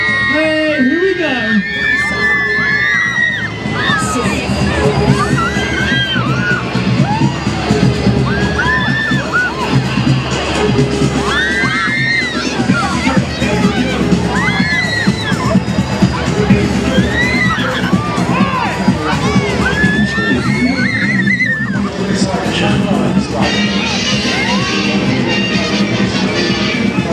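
Crowd of children and adults screaming, whooping and cheering aboard the Miami funfair ride Dance City at a family fireworks fiesta, continuous loud massed voices with bursts of shrieks, a presenter's amplified voice calling over the ride.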